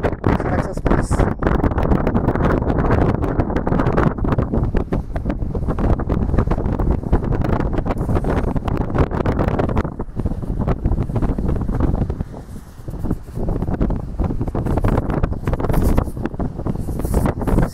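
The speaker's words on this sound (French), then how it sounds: "il y a du vent" Strong wind buffets and roars steadily across the microphone, a loud continuous rumble with gusty fluctuations throughout.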